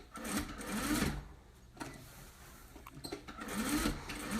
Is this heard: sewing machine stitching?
yes